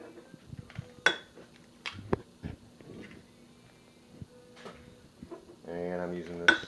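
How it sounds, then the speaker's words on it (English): Eggs are set into a ceramic bowl with a few close knocks and clinks against the dish, while a person talks over the handling. "I'm going to take 12 eggs, put them into a bowl."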